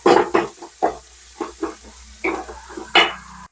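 Sliced onions frying in a pan until golden, stirred in short bursts of scraping and sizzling with a faint steady hiss underneath, close and fairly loud.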